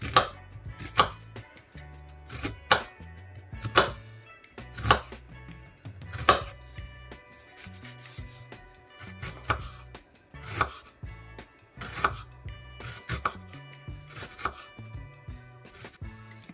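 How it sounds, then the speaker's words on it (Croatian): A knife chops onions on a cutting board in a steady series of crisp, close thuds, roughly one every second, with faint clatter between strokes and no talking. "Seckamo luk. Ćemo ga malo sitnije."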